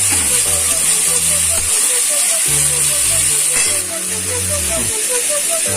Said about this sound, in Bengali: একটু জল দিয়ে নিয়ে আমি কষাচ্ছি ভালো করে